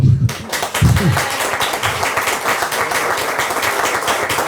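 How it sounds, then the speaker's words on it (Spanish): Audience at a book presentation in a bookshop applauds steadily, a dense wash of clapping that starts after a brief voice and holds loud and even to the end. "esto se merece un aplauso"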